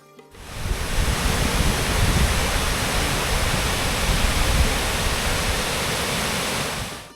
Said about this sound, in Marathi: शिवगंगा नदीच्या प्रवाहामुळे तयार झालेला हा ओढा